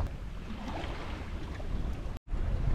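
A sailboat moving at sea at about 2.6 knots gives a continuous wash of water and wind rumble, fairly steady and close, with a brief dropout near the end.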